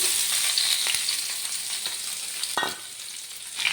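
Onions fry in oil with bay leaf and cardamom, a loud, bright sizzle that fades slightly, broken by a few stirring scrapes and one sharper burst, heard up close without speech.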